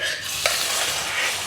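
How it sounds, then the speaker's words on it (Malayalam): Cooked dal is tipped into a hot pan and stirred, giving a continuous hissing sizzle with a single quick clink near the start. "നമുക്ക് വേവിച്ച് വെച്ച പരിപ്പ് അത് ചൂടായില്ലേ, അത് അതിലേക്ക് ഒഴിക്കാം"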